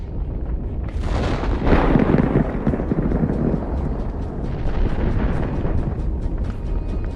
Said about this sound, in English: The heat traps ignite and explode, creating a spectacular view.